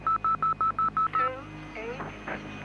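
Seven short, evenly spaced touch-tone beeps ring out from a public phone box as a number is dialed, followed by a brief electronic tone and faint line noise.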